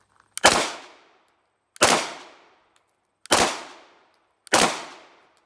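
Four sharp 9mm pistol shots from a Sig Sauer P320 at a shooting range, evenly spaced about a second apart, each a loud close crack with a short decaying tail and no talking.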